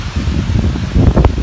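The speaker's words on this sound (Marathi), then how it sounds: "वारे पण खूप आहेत." Strong, gusty wind blows during a rainstorm at an outdoor garba festival mandap, a steady close roar of rushing air and buffeting with a few sharper gusts near the end.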